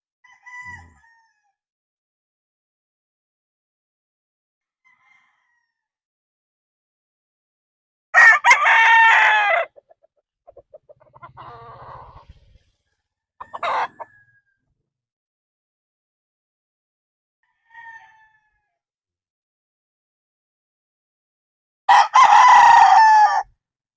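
A nine-month-old stag, a young Boston Roundhead gamecock, crows loudly twice, with a few faint clucks and soft rustles between the crows in a quiet setting.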